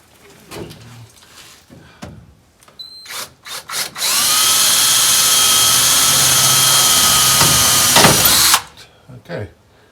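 Power drill bores holes for a gauge bezel in a 1947 Ford hot rod: a few short bursts, then a loud sustained whine for about four seconds that cuts off, with handling clatter around it.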